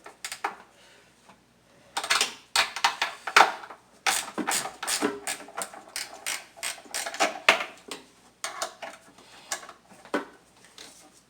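A ratchet fitted with a 10 mm socket loosens a bolt on a 2008 Dodge Charger, with irregular bursts of rapid metallic clicking and clanks close by, separated by short pauses.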